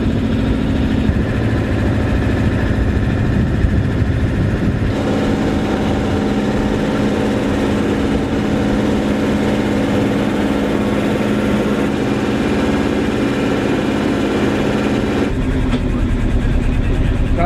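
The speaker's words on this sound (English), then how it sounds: "Motoring to the dock for our pullout." A sailboat's engine motors toward the dock, a loud, steady, close drone with a low hum throughout that shifts slightly in tone midway and again near the end.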